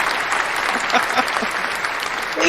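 Applause greets a newly elected Massachusetts state committee woman, a steady wash of clapping from a small audience, even and continuous with a few brief voice-like bursts underneath.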